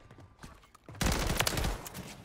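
BP50 rifle fire in Modern Warfare 3: after a quiet moment, a loud burst of rapid automatic shots rattles out in quick succession, close and sharp.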